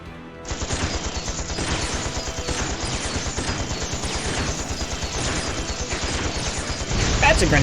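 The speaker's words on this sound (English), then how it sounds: "That's a grenade." Video game battle with sustained rapid gunfire and a grenade blast, loud and dense bursts of shots running almost continuously, with a heavier crash near the end.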